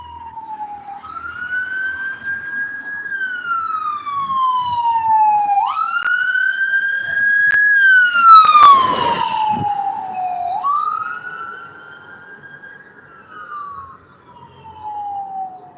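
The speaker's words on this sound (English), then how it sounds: "here's ambulance number 2." An ambulance siren wails past on the road, its long rising and falling sweeps loud and close, briefly overlapped by a burst of noise midway, then continuing as the vehicle moves on.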